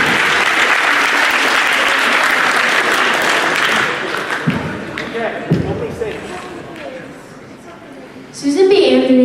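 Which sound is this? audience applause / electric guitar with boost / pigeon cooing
audience applause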